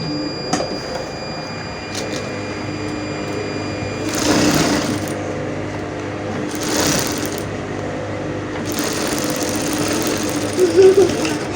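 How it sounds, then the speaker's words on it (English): Sewing machine stitching a pocket onto women's three-quarter trousers, running in a few bursts of steady whirring, close and moderately loud, with pauses between runs. "So I'm going to sew it."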